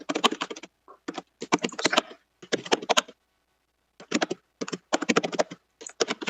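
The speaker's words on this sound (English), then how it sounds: "Sam's got a noisy keyboard." Rapid clattering keystrokes on a noisy computer keyboard come in fast bursts of typing separated by short pauses, close and crisp with no talking.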